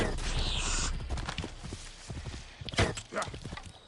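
Horse hooves clip-clop steadily through a dusty scene in Assassin's Creed Origins, a rhythmic close trot with scattered louder hoof strikes and faint game ambience underneath.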